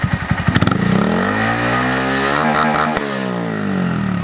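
A Honda Monkey motorcycle engine with a Yoshimura exhaust and low-volume spark arrestor insert sputters at idle, then revs hard to the red line, a loud, screaming high pitch held there, close and unaccompanied.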